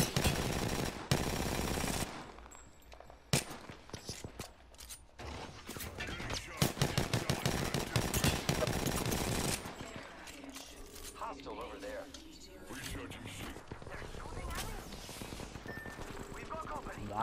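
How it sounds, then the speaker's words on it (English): Gunfire in a video game: dense, loud bursts of rapid automatic shots crackle close by for about ten seconds. Quieter scattered shots and background combat noise follow. "I am taking fire,"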